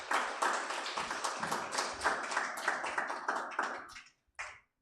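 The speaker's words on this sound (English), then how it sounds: "let's clap for the organization" An audience claps together at a public press and engagement event, a dense burst of hand claps lasting several seconds before thinning out and stopping, with a few last isolated claps at the end.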